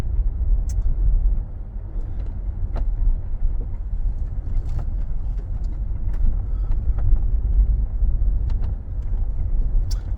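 A 2015 Jeep Wrangler Unlimited with a 6-speed manual transmission and lift being driven, producing a continuous low engine and road rumble from inside the cabin with occasional faint clicks and rattles.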